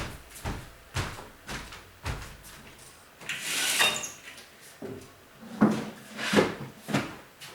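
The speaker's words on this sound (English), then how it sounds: "I need to close the door." Several dull knocks and bumps at irregular intervals, then a louder rushing scrape as a door is shut indoors, with further thuds afterward and no speech.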